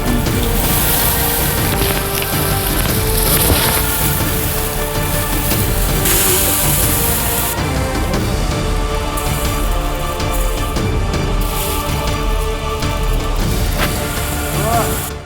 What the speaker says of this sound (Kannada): ಭಾರೀ ಗಾತ್ರದ ಆಲಿಕಲ್ಲು ಮಳೆಗೆ ರೈತರ ಬೆಳೆಗಳು